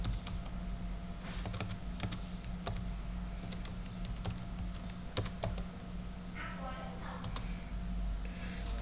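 Steady clicking of keys on a computer keyboard as text is typed in Photoshop, an irregular rapid patter heard close up over a low background hum, with a voice talking at times.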